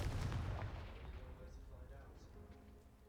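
A Confringo blasting spell from a video game bursts loud and close, with an opening boom that booms and crackles, then a rumbling tail that fades steadily over about three seconds.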